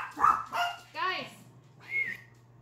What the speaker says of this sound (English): Our dogs like to bark at everything.